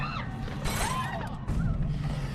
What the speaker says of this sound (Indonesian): Mereka pun berhasil menembus kaca.